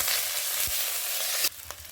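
Onion frying in a pan with garlic and ginger paste just added, a dense close hiss that suddenly drops to a quieter sizzle with a few soft stirring scrapes.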